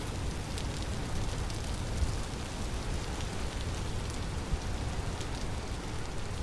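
Steady rain patters down without a break in the Vintage Story video game, a dense even hiss of drops landing on surfaces, with no voice over it.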